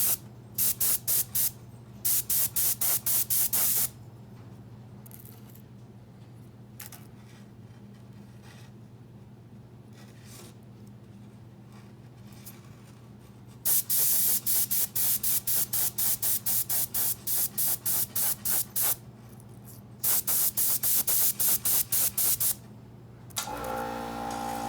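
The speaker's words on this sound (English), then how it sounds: "So I'm gonna spray these" Aerosol spray painting of model locomotive parts for a GP38 model railroad project: long bursts of loud hissing spray with rapid pulsing, separated by quieter pauses over a low steady hum.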